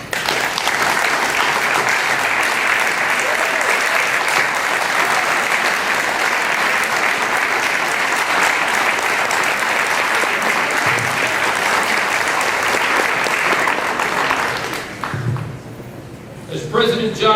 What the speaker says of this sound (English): Please stand, wave, and clap.